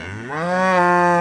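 A single Belted Galloway cow moos nearby, a long low rising bellow that swells and holds steady to the end.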